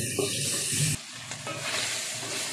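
Vegetables and chunks of pork sautéing in a pot, a steady sizzle and stirring hiss with a brief dip partway through, close and alone with no talk.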